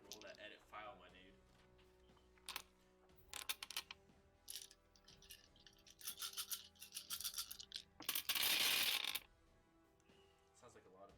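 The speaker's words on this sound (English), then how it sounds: "Sounds like a lot of dice." Many dice rattle and clatter together in a loud burst during a Shadowrun 6 tabletop session, with scattered clicks and handling noises before it and people talking in the background.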